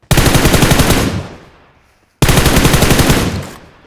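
Two long bursts of rapid automatic gunfire from the PUBG Mobile video game, loud and close. A short pause separates them, and the first burst fades into a brief tail.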